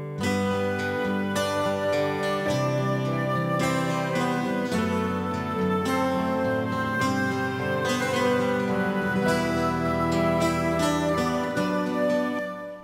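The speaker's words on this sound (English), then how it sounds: "So the pianos and the high wood and the guitars sound like this." A dense band mix of piano from the Addictive Keys plug-in, a high woodwind-like part and guitars plays steadily and loud throughout, layered chords sustaining with no talking.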